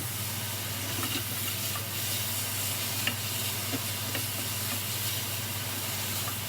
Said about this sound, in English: So the onions have started to sizzle.